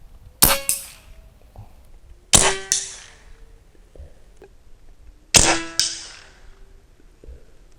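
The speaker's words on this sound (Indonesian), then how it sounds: "Tembakan kedua sukses." Three sharp air rifle shots, each followed by a ringing metallic clang as the pellet strikes a paint can, separated by pauses of a few seconds.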